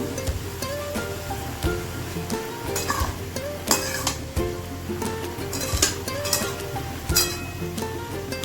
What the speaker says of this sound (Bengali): এখানে 4-5টা লঙ্কা আমি দিয়ে দিলাম ঝালের জন্য